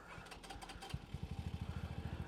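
A Venom X22R motorcycle engine cranking and catching, with uneven sputters settling into a steady, rapid low thumping idle, close by and moderately loud.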